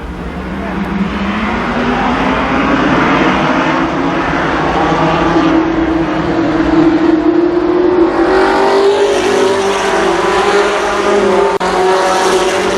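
Stock cars roar around Columbus Motor Speedway as the pace car leaves the track, engines droning loud and close with rising and falling pitch, while an announcer talks over the racing.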